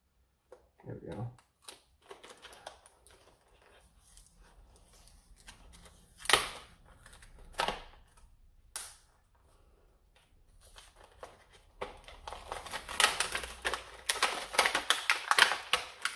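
Tape-wrapped package for Air Warriors DoubleShot foam darts being torn open, with crinkly ripping and rustling bursts that thicken into a steady loud crackle near the end, mixed with a few sharp clicks and brief moments of talk.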